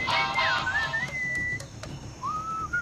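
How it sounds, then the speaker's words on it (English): A melodic whistled tune from the Sam and Max video game, clear sliding pitched notes that rise and hold, then pause before a shorter phrase, heard alone over faint background. "What is that enchanting whistling sound?"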